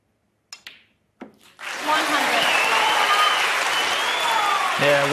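Snooker crowd at the 2024 Champion of Champions semi-final, Mark Williams against Neil Robertson, breaks into loud sustained applause after a couple of sharp cue-ball knocks, with a commentator speaking over the clapping.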